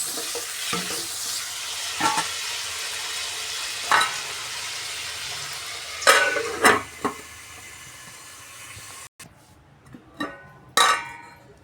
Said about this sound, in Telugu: టమాటా ముక్కలు కూడా వేసేసుకొని మెత్తగా బాగా మెత్తగా సాఫ్ట్ అయ్యే వరకు బాగా మగ్గనిద్దాము